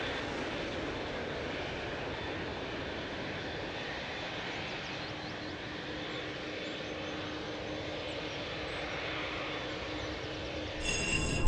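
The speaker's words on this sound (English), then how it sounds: "this Boeing 737 landed in moist conditions, causing spectacular contrails to form" Boeing 737 airliner landing in moist air, a steady, fairly loud jet engine roar holding evenly throughout with a slight swell at the very end.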